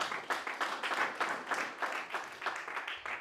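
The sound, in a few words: audience round of applause for a presenter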